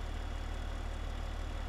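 A tractor engine in Farming Simulator 15, a two-wheel-drive model, idles in a steady, unbroken low drone at moderate volume with no other sounds.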